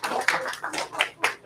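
An audience applauds at a martial arts graduation, with short uneven bursts of clapping and a few louder claps standing out over a brief span.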